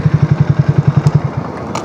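A Triumph Speed T4 350 motorcycle engine thumps in a steady idle rhythm that fades out after about a second, followed by a quieter tail of faint noise.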